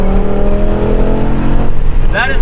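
A BMW E60 M5 with a V10 engine running in reduced power with a misfire revs loudly and close, a rough droning growl that shifts pitch, followed by a brief rising squeal near the end.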